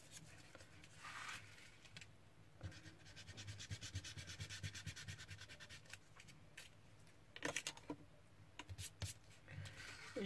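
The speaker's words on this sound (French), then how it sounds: "Hop, on va prendre une autre gomme." An eraser rubs back and forth on paper in short, quiet scrubbing strokes close by, with brief pauses between bursts.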